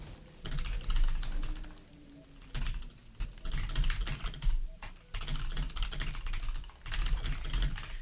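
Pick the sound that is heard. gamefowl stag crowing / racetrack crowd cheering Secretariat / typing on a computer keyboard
typing on a computer keyboard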